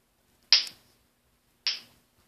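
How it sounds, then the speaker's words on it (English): Two sharp finger pops made with the fingers, close and crisp, about a second apart with silence around them. "how to do a finger pop noise"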